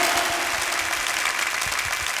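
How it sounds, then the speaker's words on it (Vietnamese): A crowd at a school alumni reunion applauding steadily, a dense wash of clapping that holds at an even level throughout. "chúng ta hãy dành cho các anh chị một tràng pháo tay thật lớn"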